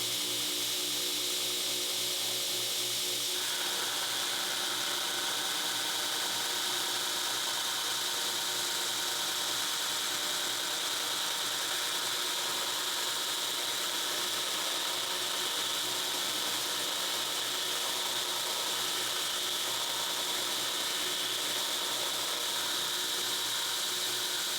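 A belt grinder fitted with a 36 grit belt removes material from steel, giving a steady, loud broadband grinding roar with a high whine that runs unbroken and alone throughout.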